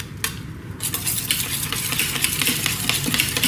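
Mint chutney being stirred with salt in a bowl, a steady scraping and clinking of a spoon with soft wet mixing sounds, close and continuous, with no talking.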